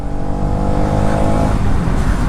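Car engine revving under throttle on a test drive, a loud close steady drone with rising harmonic lines through the whole stretch, no voices.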